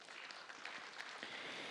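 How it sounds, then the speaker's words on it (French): Audience applause for jury members at an award ceremony, a steady, faint wash of many hands clapping throughout. "sur vos applaudissements."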